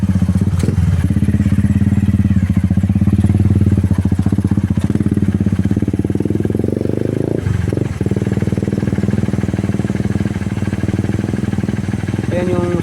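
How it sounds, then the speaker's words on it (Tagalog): A motorcycle engine chugs loudly nearby as it is ridden onto a river raft, with thumps and clatter partway through and someone talking over it. "So aakyat natin ng motor doon sa gakit."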